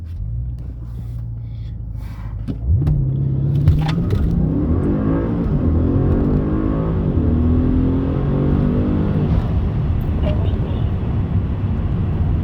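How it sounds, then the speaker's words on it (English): Launch acceleration in a 2015 Audi C7 S6 with the 4.0-litre twin-turbo V8 and APR Stage 2 tune: a steady low engine rumble rises into a loud, sustained pull with climbing revs, heard from inside the car with no talk. "let's see if I can do an actual launch here without releasing it early"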